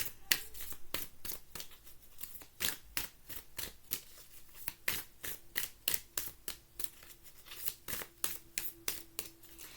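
Tarot cards being shuffled by hand, a steady run of crisp riffling slaps repeating roughly every half second for about ten seconds, close and clear with no talk.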